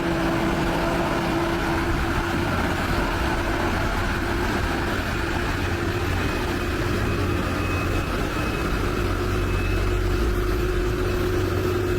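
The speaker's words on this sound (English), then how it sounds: "Engine noise. The engine noise is quite loud." Loud heavy truck engine noise, a constant deep rumble and drone that holds steady for the whole stretch, with no talking.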